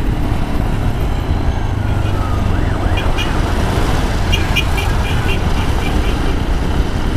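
An ambulance siren wails faintly in busy traffic as a Yamaha Ténéré motorcycle passes it in a lane corridor. The siren's rising and falling tones sit beneath loud, constant engine and road noise.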